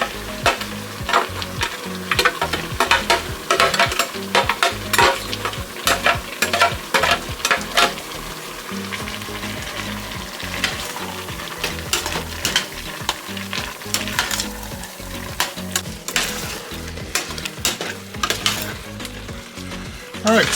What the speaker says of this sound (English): we're going to let this chili sauce reduce a little bit, which it has been doing